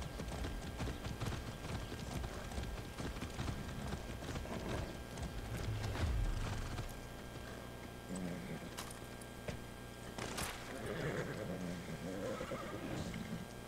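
Horses gallop in the Far Cry 6 video game, with loud whinnies and continuous rhythmic clip-clop hoofbeats up close, over a busy game soundscape with voices talking.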